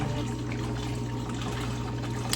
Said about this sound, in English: start putting in your water bottles